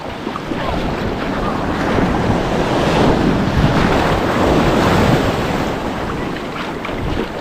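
Sea waves wash steadily around a boat on open water, with strong wind buffeting the microphone in a continuous broadband roar that holds for the whole stretch with no voices.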